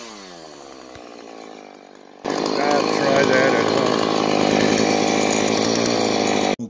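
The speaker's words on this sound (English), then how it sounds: "trying to run a chainsaw one-handed" A chainsaw idles with a low burbling putter, then snaps into a loud, close, full-throttle buzzing roar that holds steadily for several seconds before cutting off abruptly; someone speaks briefly.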